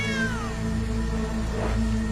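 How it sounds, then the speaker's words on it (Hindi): A small kitten gives a single short, high meow over a steady low background hum. "अरे ये तो छोटी सी बिल्ली है।"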